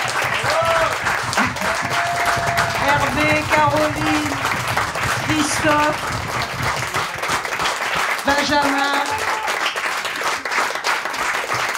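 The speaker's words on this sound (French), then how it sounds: "Veuillez applaudir tous les musiciens." After a French concert, the audience applauds the musicians with sustained, dense clapping while a voice speaks over it and names the band members in turn.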